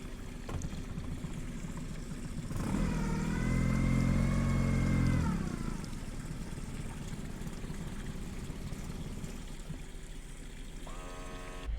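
A newer Suzuki 90 outboard motor on a 1998 Lund 1700 Pro Sport boat cranks and catches, its engine revving up loudly for a few seconds, then settling to a steady, quieter idle.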